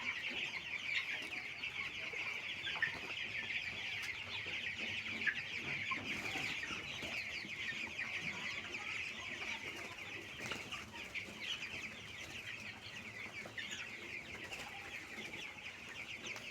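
Broiler chicks eighteen days old peeping and cheeping continuously in a farm shed, a dense chorus of many birds with occasional louder calls and faint rustling.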